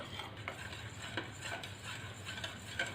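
Soy milk and chocolate being stirred together in a pot until melted, a soft steady scraping and swishing with faint utensil clicks, continuous and close, with no talk.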